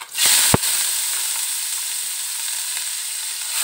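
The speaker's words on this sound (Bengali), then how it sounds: "আমি এর সাথে পেঁয়াজ কুচিটা ভেজে নেব" Chopped onions frying in oil left over from frying rohu fish, a strong continuous sizzle starting after a sharp knock at the start, steady and close with no voices.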